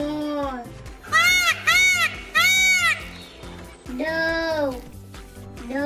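Peacock calling in loud, nasal, wailing cries: three short calls in quick succession, then a longer one after a pause, over a soft rhythmic musical backing.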